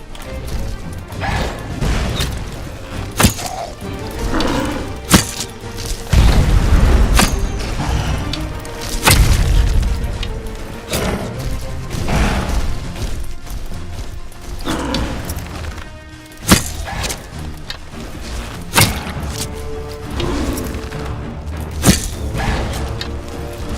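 A shot striking a statue in the video game Enderal, among a series of sharp crashing and thudding impacts scattered through continuous combat noise, loud and close.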